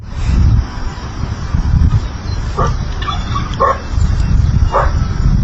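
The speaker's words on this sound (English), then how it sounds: "there's a dog that's going crazy out there" A dog barks excitedly outdoors, with a few short barks spaced apart over a loud, steady rumble of wind or background noise.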